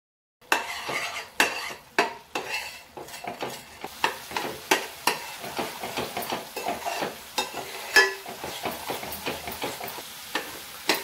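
Masala paste with salt, turmeric and homemade spice mix frying in oil in a pan, stirred with a utensil in a steady run of sharp scraping knocks over a low sizzle, close and loud.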